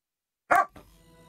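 A single short, sharp bark from a husky, loud and close, followed by a low, fading tail of background noise.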